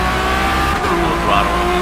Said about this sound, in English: I'm full throttling it.